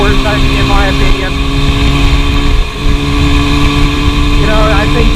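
A classic small-bore two-stroke motorcycle engine runs close by, a loud buzzing drone with steady harmonics and a short dip in revs midway before it picks up again.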